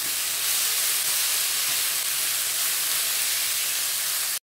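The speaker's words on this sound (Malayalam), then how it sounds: "ഇനി ഈ ഇഞ്ചി വെളുത്തുള്ളി പേസ്റ്റ് ഇതിനകത്ത് കിടന്നൊന്ന് നന്നായിട്ട് മൂത്ത് വരണം അതുവരെ വഴറ്റിയെടുക്കാം" Ginger garlic paste sizzles in hot coconut oil as it sautés for roasting fish in banana leaves, giving a steady, close, even frying hiss that holds unbroken throughout with no talk.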